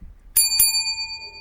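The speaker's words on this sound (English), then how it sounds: "Kenji rings his bell twice" A bicycle bell rings twice in quick succession on a village street, two bright close dings whose metallic tone lingers and fades.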